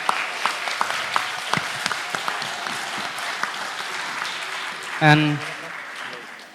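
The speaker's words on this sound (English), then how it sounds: "Please give applause to Professor Mas Rafifi and Professor Sajida." Applause from an international economics conference audience: a steady patter of clapping hands through most of the clip, with a brief spoken word near the end.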